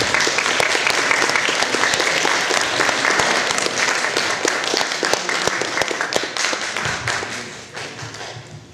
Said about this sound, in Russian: Аплодисменты, ребята